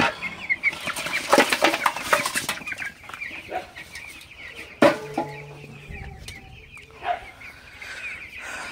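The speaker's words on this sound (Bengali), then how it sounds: "তো মুরগিগুলো আমি ছেড়ে দেই এখন" Fifteen-day-old broiler chicks clucking and cheeping after being let loose on a small farm, scattered close calls with a brief flutter of wings and some knocking noises.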